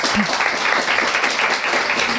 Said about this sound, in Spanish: Muchas gracias a todos por estar y por hablar y preguntar. Un aplauso.